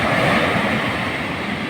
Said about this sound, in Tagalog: Sa laki ng alon, bumagsak.